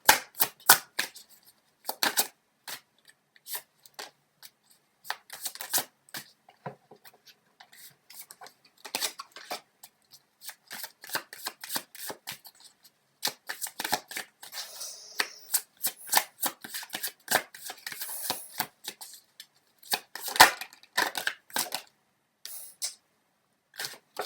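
Tarot cards being shuffled by hand: repeated quick riffles and slaps of cards in irregular bursts with short pauses between, close and crisp, and no talk.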